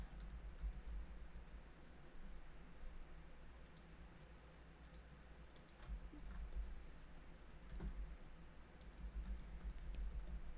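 Test data is typed on a computer keyboard while setting up a Salesforce flow, producing soft, close key clicks in irregular bursts over a low steady hum.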